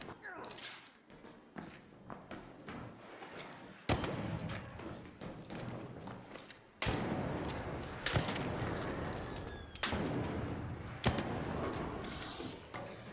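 Arc Raiders gunfire amid movement, sharp shots cracking at irregular intervals over scuffling footsteps and sliding, with talk running over much of it.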